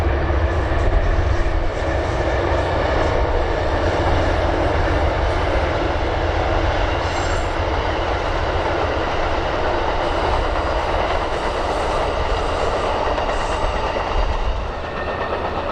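The southbound Amtrak Crescent passenger train, with a P40DC locomotive trailing, glides through low-lying woodland in a loud, sustained rumble and wheel roar that stays level for a long stretch before easing slightly at the end.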